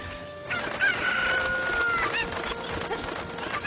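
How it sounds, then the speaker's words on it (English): A chicken clucks and crows in The Legend of Zelda: Ocarina of Time, the bright cackling calls repeating over steady game background music. "I hear another chicken nearby."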